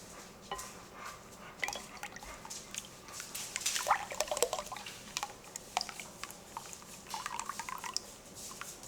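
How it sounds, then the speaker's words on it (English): Lye solution is poured into warm oils while making goat's milk soap, giving faint, scattered trickling and dripping liquid sounds with no talking. "And you want to put the lye into the oil."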